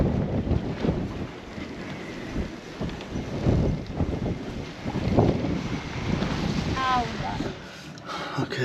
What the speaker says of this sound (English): I don't know what the wind's run up to. Maybe 30.